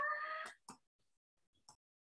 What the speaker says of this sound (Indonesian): saya mau mengeluarkan kucing dulu ya, dia masuk dari jendela